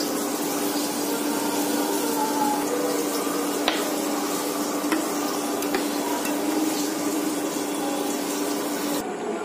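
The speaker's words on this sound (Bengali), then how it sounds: "যে বেগুনটা ভাজা হচ্ছিল দেখা যাক এবারে সেটা কতদূর হয়েছে" Brinjal slices frying in a pan for a khichuri meal give off a steady, even sizzle close by, with a few faint clicks of handling and no talk.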